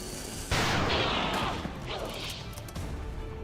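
Gunfire in XCOM 2 erupts as a loud burst of shots that rolls into a decaying rumble and crash, followed by lingering battle noise.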